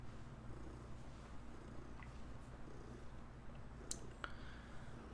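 A cat purrs close by in a quiet room, a soft continuous rumbling purr with a few faint clicks over it and no talking.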